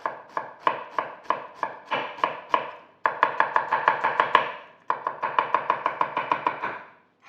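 An onion chopped with a knife on a board: quick, evenly spaced chops in steady bursts, each a crisp close thud, pausing briefly between runs, with no talking.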